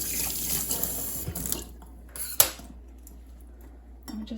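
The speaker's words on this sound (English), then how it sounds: "And then I just kind of wash off the roots just a little bit" Leek roots get rinsed under a running tap, with a soft steady water hiss and splashes, a few sharp clinks and a brief thud in the middle, then quieter dribbling.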